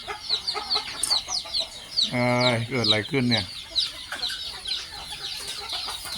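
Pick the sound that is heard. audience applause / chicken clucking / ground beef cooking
chicken clucking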